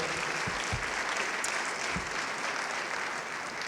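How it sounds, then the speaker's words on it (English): Steady applause from an audience at a public meeting on the prescription opioid and heroin epidemic, a dense even wash of clapping that holds throughout, with a few low thumps near the start. "One more round of applause for everybody who was here with us today."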